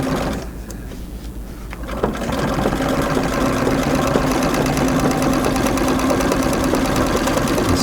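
A sewing machine runs steadily during free-motion quilting around a circle on a basket quilt, its rapid needle clatter and motor hum loud and continuous after a brief quieter start.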